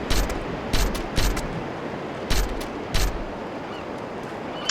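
Bursts of gunfire in the video game How to Survive, several sharp shots in irregular groups over a constant noisy background.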